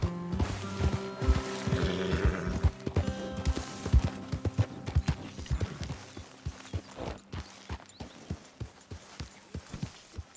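Hooves of a horse in the video game Red Dead Redemption 2 clip-clop on hard ground in an uneven rhythm, loud and close, fading to scattered steps; a brief whinny may be mixed in early on.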